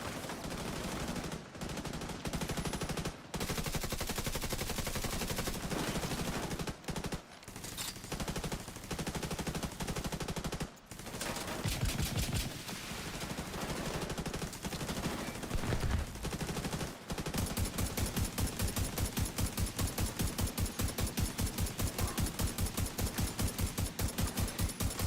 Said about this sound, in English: Stop peppering me with bullets